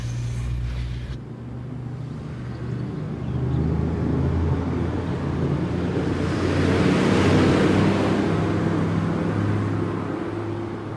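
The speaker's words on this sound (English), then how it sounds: "the car's arrived" A car rolls in on gravel with a rising, rushing wash of tire and engine noise that swells to a peak and then settles, its low hum persisting throughout.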